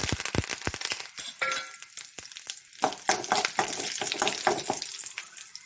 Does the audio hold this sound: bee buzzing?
no